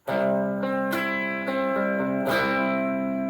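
Strummed electric guitar chords, with a distorted, effects-laden tone; a few bright strums ring out with sustained chords between them, close and loud with no talking.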